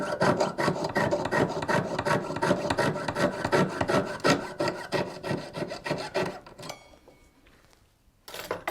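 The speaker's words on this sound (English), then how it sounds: "Now I'm going to get my saw frame and just trim off my ends, which is wastage here." A jeweller's saw frame rasps back and forth in quick, steady strokes as it trims the wire ends off a twisted hoop earring, close and continuous, then pauses briefly near the end before one more cut.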